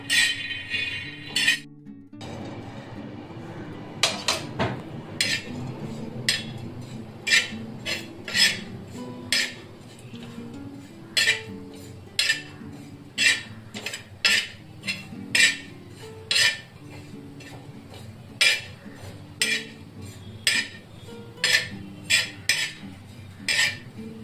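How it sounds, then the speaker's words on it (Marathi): Peanuts roasting in a pan while being stirred, a regular series of loud metallic scrapes and clinks of a spoon against the pan over a low background hiss, with no speech. "शेंगदाणे चांगले भाजून घ्यायचे, ते आतून कच्चे राहायला नको ना, म्हणून त्यांना व्यवस्थित भाजून घ्या।"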